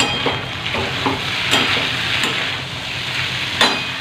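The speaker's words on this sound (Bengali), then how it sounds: "আলু ভাজার জন্য আলু কেটে নিয়েছিলাম দেখো এই যে আলু ভাজছে" Potatoes and onions frying in a pan with a constant close sizzle, stirred now and then with soft scraping taps, and no talking.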